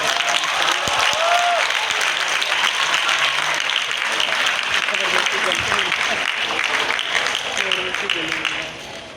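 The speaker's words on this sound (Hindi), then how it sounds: "आपकी भरपूर तालियों में हमारा" A live audience claps heartily to welcome a star performer onto the stage, sustained thick applause with a few voices mixed in, fading slightly at the very end.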